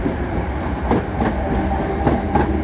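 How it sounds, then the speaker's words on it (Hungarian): A HÉV suburban train pulls into a stop, heavy continuous rumble with rhythmic clickety-clack of wheels over rail joints, close and loud. "És pont megállt a hév"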